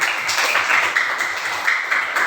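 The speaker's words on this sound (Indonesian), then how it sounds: "Oke, tepuk tangan untuk kalian semua." Applause from a classroom group of teacher trainees after group winners are announced, a steady patter of many hands clapping close by for about two seconds.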